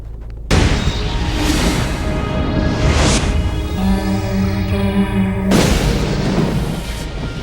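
The Minority Report movie trailer plays loudly, with deep booming rumbles and sustained musical tones under heavy low-end impacts that swell, pause and return.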